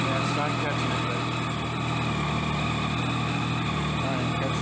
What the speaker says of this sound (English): And she's just idling low there right now.